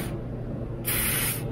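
Chassis Saver paint sprays from an aerosol onto the frame of a fourth-generation Toyota 4Runner, a close, steady hiss with a brief pause in the middle.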